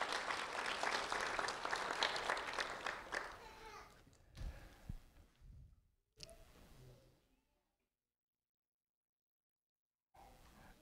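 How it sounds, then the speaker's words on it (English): Dense crowd clapping fills the first few seconds, then thins into scattered claps and fades out, leaving near silence before a brief noise at the end. "A round of applause for Carl Wayne Howard, please."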